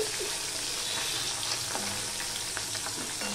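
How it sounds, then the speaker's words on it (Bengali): Marinated Murola fish fry in hot oil, a loud, close, unbroken crackling sizzle with a few faint knocks of utensils against the pan. "এবারে আমি যে ম্যারিনেট করে রেখেছিলাম মাছগুলো সেগুলো আমি ভেজে নেব"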